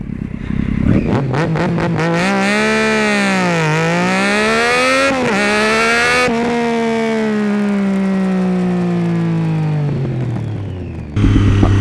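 A Triumph Daytona 675 motorcycle launches hard again, the close, loud engine rising in pitch through successive gears with short drops at each shift before the roar cuts off near the end.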